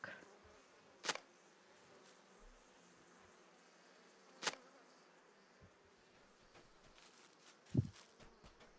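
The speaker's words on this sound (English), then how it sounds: "I hear the bees, I don't see the bees." Bees buzzing in the fantasy video game LOTRO near honeycombs, a faint, steady insect drone punctuated by three sharp, isolated clicks.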